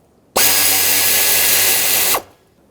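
A power tool spins out a 10mm bolt from the AC condenser bracket through the radiator of a 2008-2020 Dodge Grand Caravan, one loud steady whir lasting under two seconds with abrupt start and stop.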